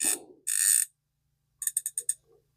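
A Shimano Baitrunner 6500 fishing reel's mechanism, clicking close up as it is tightened and loosened: two longer ratcheting bursts, a pause, then a quick run of five or six sharp clicks.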